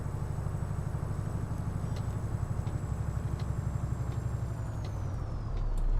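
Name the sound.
Iveco Stralis truck engine in video game Euro Truck Simulator 2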